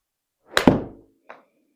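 Golf shot with a 48-degree wedge on a Trackman virtual golf simulator: one sharp, close whack of impact with a short ringing thud, then a fainter second knock a moment later.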